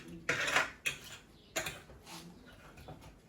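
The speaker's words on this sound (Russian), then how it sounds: "Вот так вот я перекладываю пока вот в такое это блюдо их" Fried whole chickens are moved into a serving dish in a few quiet, scattered bursts of clinking and scraping that are close by and separated by short pauses, with no talking.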